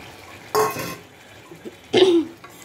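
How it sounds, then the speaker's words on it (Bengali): Taro (kochu mukhi) and spices are stirred with fish in a cooking pan, giving two short scraping, rustling bursts of spoon against metal separated by a quiet pause. "মশলাগুলি নেড়ে চেড়ে নিব"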